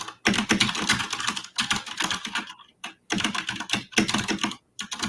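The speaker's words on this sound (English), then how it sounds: "That was kind of me just typing a message that I had to send" Rapid typing on a computer keyboard, close and loud, with dense bursts of key clicks broken by short pauses.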